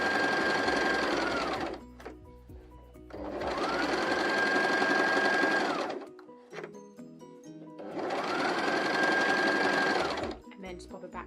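Sewing machine stitching a Christmas stocking, running in three long, steady buzzing stretches with short pauses between them; the whirring is loud and close, with light clicks and handling noises in the gaps.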